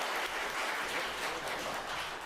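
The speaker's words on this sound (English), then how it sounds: "I am going to ask that you please not clap" Audience clapping at a joint planning and zoning board meeting, a dense, steady burst of many hands filling the room, loud and continuous with no talk over it.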